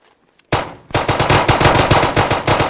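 Rapid automatic gunfire in the Arma 3 Antistasi mod on the Virolahti map, a loud, close burst of rhythmic shots after a brief quiet start.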